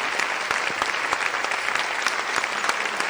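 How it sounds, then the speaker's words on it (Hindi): An audience at a singing competition gives loud, sustained applause, a dense field of clapping with a few sharper individual claps standing out. "एक बार जोरदार तालियां सर के लिए।"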